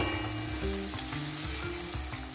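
Tomato and green chillies sizzling in a pan with ginger-garlic paste, a steady close frying hiss with occasional stirring scrapes and no voices.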